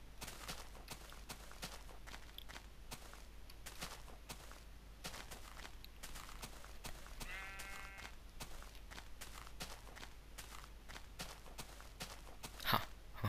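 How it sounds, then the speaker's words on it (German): A single sheep bleats midway in the Minecraft video game, a short wavering call heard over faint, rapid clicking footsteps in an otherwise quiet scene. "So viele Schafe."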